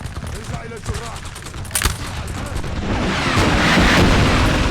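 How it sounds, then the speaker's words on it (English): Cannon fire in a Napoleonic war video game set in Egypt: dense, continuous booming and crackling gunfire that swells louder and more constant over a few seconds, with no pauses between shots. "Those cannons are doing great work."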